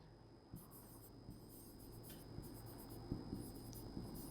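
Pen strokes scratching across paper or a board during a Class 9 maths lesson, faint and intermittent, with soft taps and scrapes spread over a few seconds in a quiet room.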